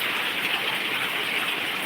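Rain falling in a steady, dense hiss that fills the whole moment, close and fairly loud, with no voices.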